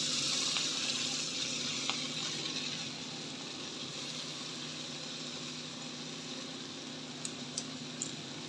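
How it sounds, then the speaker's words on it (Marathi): Vegetable (tandula kundra) tipped into hot chili tempering in a pan sizzles in a steady, even hiss that fades slightly over time, close and without talk. "आता आपण याच्यात हे भाजी घालायची."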